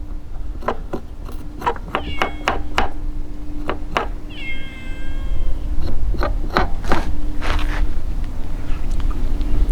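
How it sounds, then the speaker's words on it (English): Stray cat meowing outdoors behind a kitchen, several drawn-out mews rising over a steady background hum, mixed with sharp knocks and clicks from food prep nearby. "Pay attention to that crazy stray cat back there."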